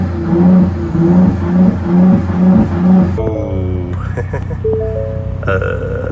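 A Ford Raptor pickup truck with a straight-piped Magnaflow xMOD exhaust revs in repeated bursts, limited to about 3,000 RPM, with a deep rumbling exhaust, then settles into a steadier idle while some whining, tonal noises come and go.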